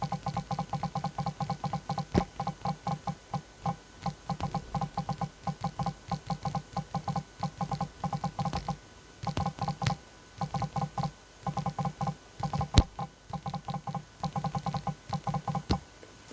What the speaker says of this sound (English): You will be able to exactly hear the haptic feedback sound.